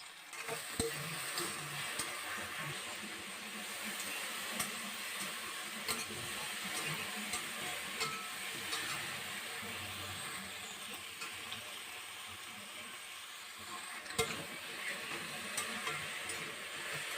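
Okra fries and sizzles in a pan with turmeric, with a steady hiss and occasional scraping and clattering as it is stirred, heard close and alone.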